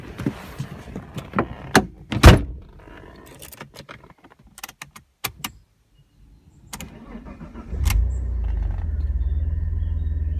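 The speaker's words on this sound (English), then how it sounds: "So let's just start the car." An Alfa Romeo GTV V6 3.0 24v Lusso is unlocked and entered with key jingles, clicks and a door thud, then the engine cranks and catches near the end, settling into a loud, steady idle.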